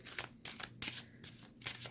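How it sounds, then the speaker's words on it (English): Tarot cards shuffled in quick bursts of crisp riffling, about six short papery flurries with brief pauses between, close and moderately quiet. "I'm just going to keep shuffling because I want to make sure that I have the energy within the cards"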